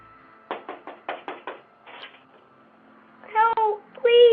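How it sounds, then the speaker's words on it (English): A little girl knocks on the door of an unoccupied house late at night in Texas, two quick bursts of rapid knocks, followed by her frightened voice calling out loudly. "a little girl was seen knocking on the door of an unoccupied house late at night"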